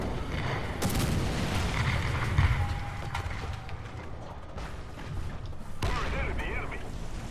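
Artillery barrage in the War Thunder tank game: heavy booms and rumbling detonations roll through a busy mechanical din of engine and clanking, with a sharp burst near the end.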